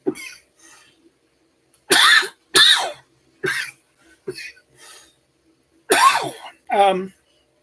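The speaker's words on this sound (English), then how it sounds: "Pardon the coughing." Several harsh coughs in separate bursts, some doubled, with short quiet gaps between them, close and fairly loud.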